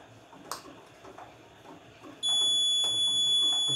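A Raspberry Pi Pico women safety device with GSM and GPS modules sets off its emergency alarm, a steady high electronic tone that starts partway through and holds loud, over faint room noise and small clicks.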